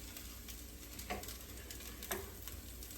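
A potato pancake laid into a small hot oiled frying pan, with steady close sizzling and crackling throughout and a couple of brief louder pops, no voices.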